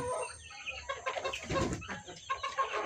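Naked neck Kappiri chickens, a native breed at a farm in Ponnani, Kerala, cluck and squawk loudly and busily in a close, overlapping flock chorus with no talk.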